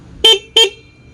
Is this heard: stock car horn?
yes